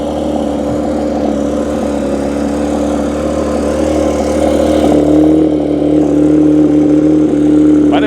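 A steady, rumbling Porsche 911 GT3 engine idles loudly and continuously, with a low droning hum and a slight rise in intensity toward the end.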